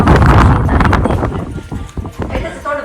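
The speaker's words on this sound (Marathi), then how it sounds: "ही बैलगाडी आहे ना ही आमच्या मावशींची बैलगाडी आहे" Hooves of oxen pulling a bullock cart clop steadily on a dirt road while wind buffets the microphone and voices are heard nearby.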